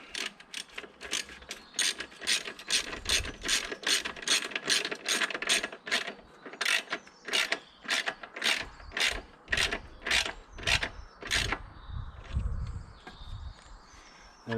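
A ratchet tightens the bottom exhaust bolt on a Honda VFR800 VTEC motorcycle, giving a long run of rapid, close metallic clicks in steady bursts that slow and break up toward the end, with no talk.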